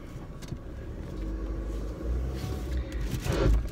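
A car engine revs while the vehicle is not in gear, a steady low rumble that swells louder toward the end, heard close with no talking.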